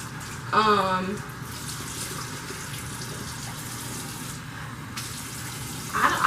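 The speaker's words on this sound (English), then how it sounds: "So I use just a regular washcloth to rinse my face." Running tap water while rinsing a face with a washcloth, a soft steady splash and trickle, close and moderately quiet, with a brief voice near the start.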